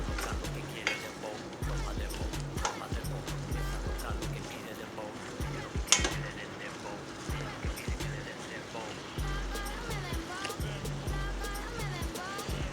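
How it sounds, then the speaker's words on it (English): Sausages and cabbage with a little added water cook in a pan, giving a steady close sizzle and bubbling with occasional stirring scrapes and clinks. There is no speech. "cook the sausages, till they're like a little bit brown. And then you add the cabbage and just add a little bit of water"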